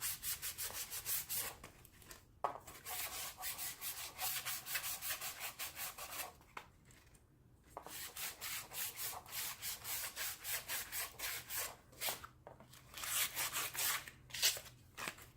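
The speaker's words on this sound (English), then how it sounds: "I'm going to go ahead and sand the back as well" Hand sanding of a wooden cross frame, a steady back-and-forth rasping scrub with brief pauses, close and alone without talk.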